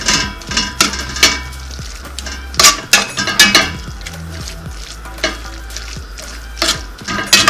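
Potatoes and Swiss chard sizzle in a baked metal frying pan while a utensil stirs and scrapes, giving repeated close clinks and knocks over a constant frying hiss.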